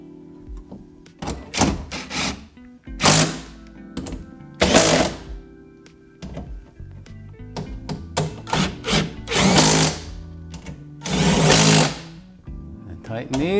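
Power drill driving bolts into a 2009 Honda Civic driver's side window regulator, several loud whirring bursts with short pauses between them and occasional clunks at close range.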